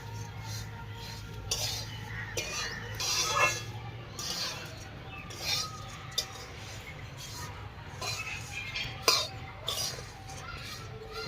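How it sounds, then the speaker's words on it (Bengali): Flattened rice (chire) tipped into a pan for frying, with repeated metal spoon scrapes and clinks against the pan over a soft sizzle, close and irregular, with no talking. "এবার আমি চিড়েগুলো সব দিয়ে দেবো"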